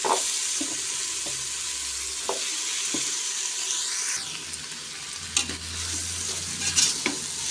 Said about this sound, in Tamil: மாங்காவையும் இதோடு சேர்த்துருவோம்